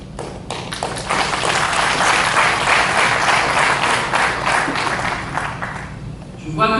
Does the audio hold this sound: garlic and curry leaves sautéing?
no